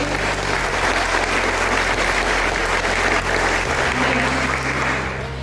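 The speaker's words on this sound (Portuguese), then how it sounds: "Quem é católico aí aplaude a igreja de Deus" Church congregation applauding during a Catholic sermon, a loud, continuous wash of many hands clapping together, sustained evenly throughout with no talk over it.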